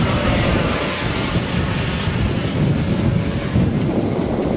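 Model F-16 fighter jet flying overhead in gusty wind ahead of a cold front, a steady loud whining engine roar with a sustained high whine, continuous and close throughout.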